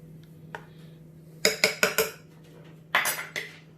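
Spoon clinking against a dish while melon ice cream mixture is stirred, a few sharp close metallic taps in two short clusters over a quiet background.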